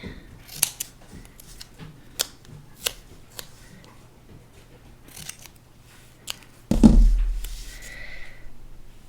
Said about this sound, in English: Cut the strips this way.